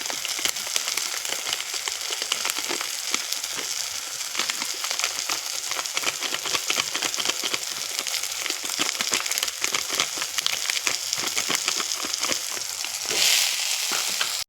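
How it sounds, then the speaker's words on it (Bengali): Spices, ground cumin and tomato fry in a pan in Bengali home cooking, giving a dense, continuous sizzle and crackle that stays close and steady throughout. "এবার এই টমেটোটা গোলা অবধি মশলাটাও কষা হয়ে যাবে, টমেটোটাও গলে যাবে।"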